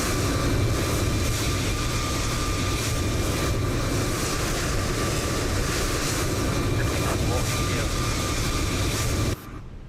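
Loud, steady roar of a Ryanair jet's engines sitting right behind a British Airways A319 in Microsoft Flight Simulator, a dense broadband rumble holding level throughout before dropping sharply at the very end.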